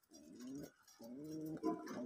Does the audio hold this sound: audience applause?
no